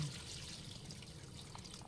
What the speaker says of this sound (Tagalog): lagyan na natin yung ating gata